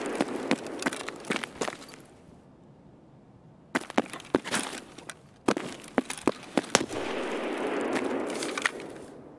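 Gunfire in Escape from Tarkov, a run of sharp, loud cracking reports spaced irregularly with a silent gap in the middle, then a tight cluster of shots followed by a lingering noisy rumble near the end.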